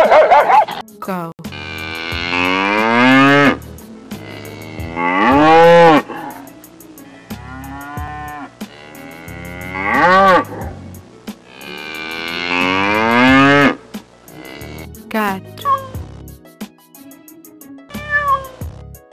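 A cow moos in several long, drawn-out lows with short pauses between them, loud and close, with no talking.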